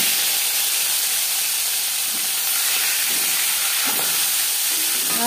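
Fish sizzling as it hits hot refined oil in a pan, a steady loud hiss of frying that holds evenly throughout with faint clinks underneath.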